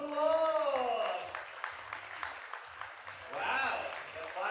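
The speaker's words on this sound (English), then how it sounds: "let us give them another round of applause." A wedding audience applauds after a dance number, heard as a soft spread of clapping beneath an announcer's amplified voice, which dominates the start and end while the applause stays in the background.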